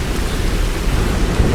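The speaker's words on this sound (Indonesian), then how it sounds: "pada suatu malam yang gelap dan hujan deras mengguyur Batavia" Heavy rain pours down in a dense, steady roar with a low thunder rumble underneath, a close, loud storm wash with no voices.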